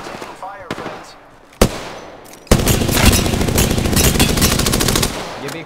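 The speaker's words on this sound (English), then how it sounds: "I'm taking fire, friends." Gunfire aimed at the player in Apex Legends: a few sharp isolated shots, then a loud sustained burst of rapid automatic fire close by, continuing to the end.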